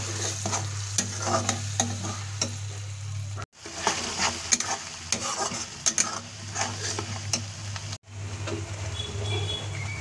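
Tomato, onion, green chili and garlic paste hit a pan of fried ginger for a mushroom gravy, sizzling loudly and steadily up close with scraping stir strokes, briefly cut twice.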